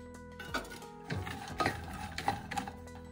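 A spoon scrapes and clinks against a pan while pistachio pieces and raisins are stirred, a few irregular close scraping strokes over a quiet background.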